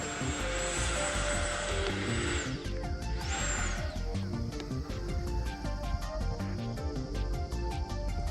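An FMS Rafale 80mm electric ducted-fan RC jet flies overhead during a flat-spin attempt, its high turbine whine rising, falling and sweeping in pitch as it pulls up and maneuvers, loud and steady throughout.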